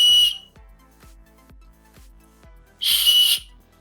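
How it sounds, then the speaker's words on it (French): A small whistle-shaped lollipop gives two sharp, shrill blows separated by a pause of soft tapping and clicking. "c'est une choupa choupe, une sucette, mais qui est en forme de sifflet"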